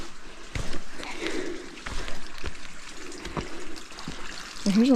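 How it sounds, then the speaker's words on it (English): A small stream of flowing water beside a hiking trail trickles steadily and softly in the background, with footsteps and a brief voice near the end. "So here's a little flowing water source."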